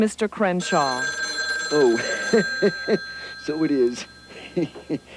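A telephone bell rings in a radio drama, a steady, bright ring running under voices talking.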